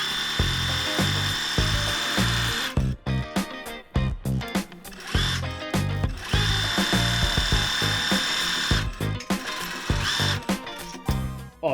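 Loud mechanical whirring of a sewing machine stitching fabric for an Easter bag, running in bursts with abrupt stops, clicks and restarts.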